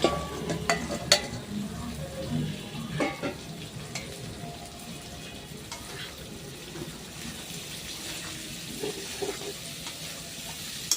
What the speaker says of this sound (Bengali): দেখো মশলাটা ভাজা হয়ে গেছে, এখন দিয়ে দিই ফুলকপিগুলো।